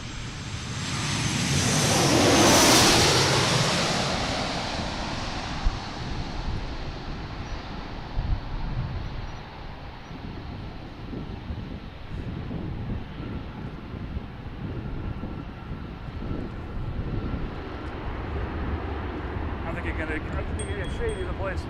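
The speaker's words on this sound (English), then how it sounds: "Next flight coming in the southwest from Fort Lauderdale." Airliner passing near Washington National Airport (DCA), a loud jet roar with a falling whine that peaks overhead and then fades into a long rumble, with wind buffeting the microphone.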